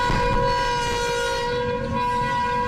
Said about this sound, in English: It is called the Beast, or the Train of Death.